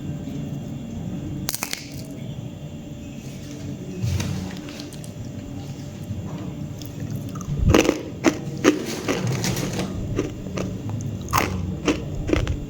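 Crunchy fried chicken intestine chips are bitten and chewed close up, giving repeated crisp crunches in uneven bursts that grow denser and louder toward the end, with no talk.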